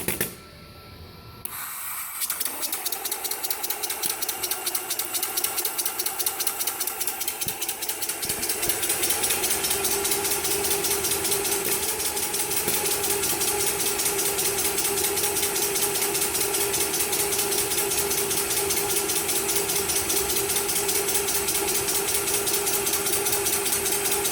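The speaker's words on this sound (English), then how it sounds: "we're going to keep a constant electric motor value of 450 RPM. So we set our air engine PID, and then we click start." A benchtop hybrid rig with an air engine and an electric motor held at 450 RPM starts up and then runs steadily, a fast even mechanical ticking and hum that continues alone at moderate volume.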